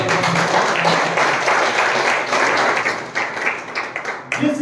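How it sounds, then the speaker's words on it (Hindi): A church congregation clapping during a Hindi sermon, a loud, dense burst of many hands that fades and breaks up toward the end, with a voice briefly coming in. "ताली बजाइए"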